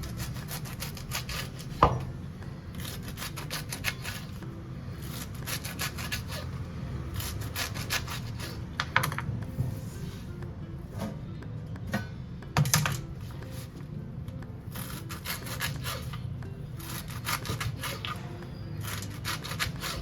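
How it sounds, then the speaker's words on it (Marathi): Taro leaves, rolled up, are finely sliced with a knife on a board, a close run of quick, rhythmic cutting strokes in short bursts with brief pauses between them. "आता कापून घ्यायचे पानं या पद्धतीने बारीक कापून घ्यायचे"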